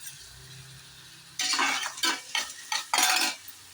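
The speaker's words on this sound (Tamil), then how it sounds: "நல்லா கொஞ்சம் கிளறி விட்டு சிம்மிலே வைங்க." Mutton curry masala with sautéed onion and tomato stirred in a pot: after a quiet start, a series of loud metal spoon scrapes and clanks against the pot in uneven bursts, alone without talk.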